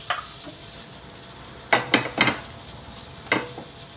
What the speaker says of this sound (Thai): แล้วก็นำกระทะ กระทะย่างกระทะกิวนะครับ มาตั้งนะครับ ใช้เนยเลี้ยงกระทะนิดนึงครับ